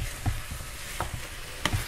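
Eggs cooking in a pan for egg hash get pushed around with a utensil, giving three distinct scraping strokes over a soft, continuous sizzle.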